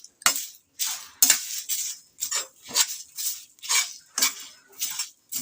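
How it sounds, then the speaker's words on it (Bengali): Cardamom, cinnamon and cloves dry-roasting in a pan are stirred with a utensil, making about nine rhythmic scraping, rattling strokes at a steady pace, close and crisp with brief pauses between. "এলাচ, দারচিনি আর লবঙ্গ, সমস্ত একসাথে ভেজে নিচ্ছি।"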